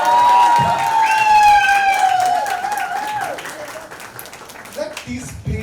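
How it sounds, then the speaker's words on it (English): An audience at a book launch for someone's book applauds, a crowd of clapping hands that carries on beneath a prominent tonal voice and fades gradually toward the end. "A round of applause."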